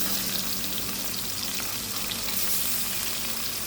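Fish fries in mustard oil in a home kitchen pan, a dense, continuous crackling sizzle heard close and steady, with no talk over it.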